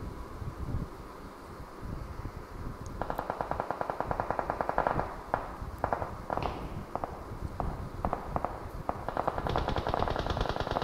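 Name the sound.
gunfire in a battle royale video game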